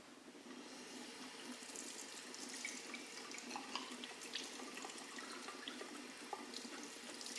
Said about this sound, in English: the next one is to fill the bottle as much it will fill up